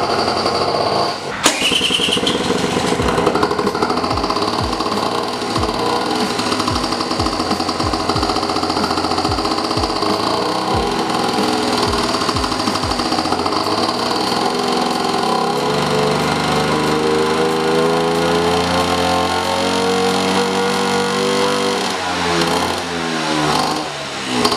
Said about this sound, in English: So as you saw there, it runs pretty good. I just need to give it gas so it doesn't die.